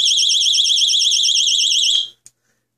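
An electronic tripwire alarm shrieks loudly with a warbling, rapidly oscillating tone for about two seconds, then cuts off abruptly, followed by a short click.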